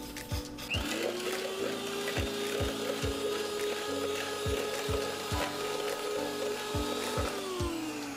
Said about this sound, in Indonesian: Dan kita masukkan mixer sehingga dia kembang